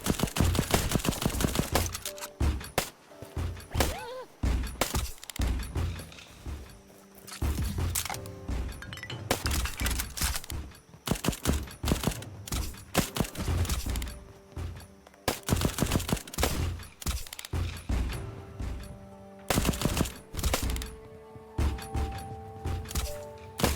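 An upgraded assault rifle in a video game battle against invading pirates and flying warships fires in rapid repeated bursts almost nonstop, loud and dense, with clanks and thuds of other combat mixed in.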